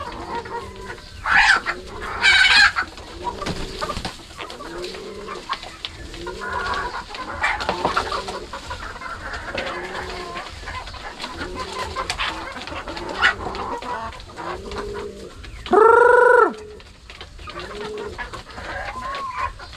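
Farm hens clucking repeatedly in a steady rhythmic pattern, with a louder squawk or crow near the end, fairly close with no talk.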